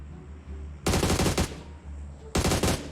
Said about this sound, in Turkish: Bu yönden de ateş var.